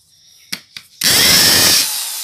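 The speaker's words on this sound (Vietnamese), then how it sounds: "Khoan búa" Hitachi 110V electric drill in hammer drill mode: two short clicks, then a loud, close, continuous whirring rattle that eases slightly near the end.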